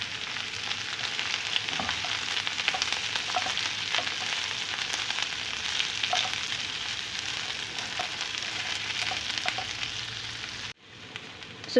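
Flour fries in a pan while being stirred toward a brown color, a soft steady sizzle with faint scraping strokes throughout, close and quiet, no talk, ending abruptly.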